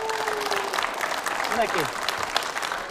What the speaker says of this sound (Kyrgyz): Мынакей, кол чаап коюңуздар.